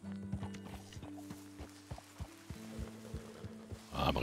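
Horse hooves clip-clop at a steady walking pace in the video game Red Dead Redemption 2, fairly soft, with a brief rustle at the end.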